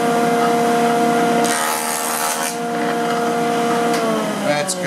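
A jointer planes a board on a test pass after a blade change, a steady loud whirring cut with constant motor hum throughout and a brief shift in tone partway through.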